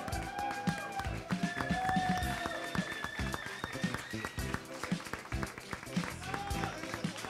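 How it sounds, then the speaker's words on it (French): An audience at a live stage event in France greets a guest with dense, sustained clapping that rises and then tapers off, while music plays beneath it. "Je vous demande d'accueillir sous un tonnerre d'applaudissements Alexia"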